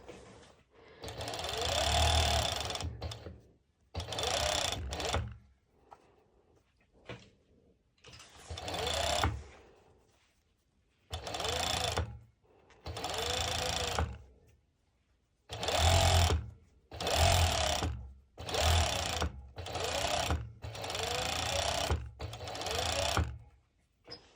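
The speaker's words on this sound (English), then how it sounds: "And then the next step is actually serging it." A serger overlock machine stitches bikini ruffle fabric in repeated fast bursts of a few seconds each, loud and close, with short quiet pauses between runs.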